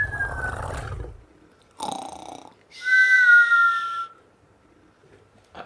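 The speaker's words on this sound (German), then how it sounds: "Der schnarcht. Der grunzt." A creature in ARK Survival Evolved gives a few separate rasping, whistling snore-like breaths, loud and close, with quiet gaps between them.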